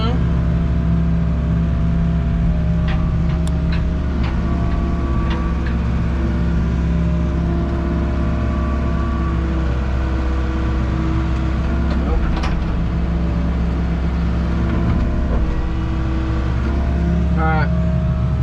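A John Deere 75D with steel tracks runs and turns in place, its engine a loud, steady drone throughout with faint clanks on top and a person talking over it.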